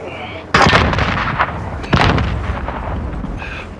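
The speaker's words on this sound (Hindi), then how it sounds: "इतनी गंदी स्नाइपर चला रहा है ना" Two loud, sharp video-game sniper rifle shots roughly a second and a half apart, each with a booming decay, alongside faint background game sounds.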